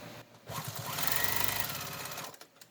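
A sewing machine machine-quilts a scrappy paper-pieced crazy quilt in one steady, close, rapid mechanical run of about two seconds that starts and stops abruptly.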